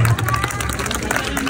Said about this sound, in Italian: un applauso a Germana.